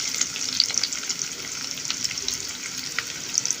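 Half a cup of chopped onion fries in hot oil with a quiet, continuous crackling sizzle and scattered light pops, no voices over it.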